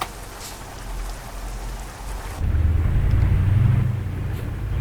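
Steady rain in Euro Truck Simulator multiplayer, a continuous hiss of falling drops heard from a truck on the road, with engine rumble swelling in partway through, fairly loud and without talking.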